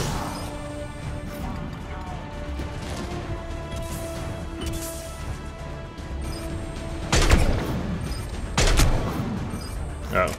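Mass Effect 3 combat gunfire and impacts at Cronos Station, dense overlapping shots and crashes running continuously over a layered game soundtrack, with louder hits near the end.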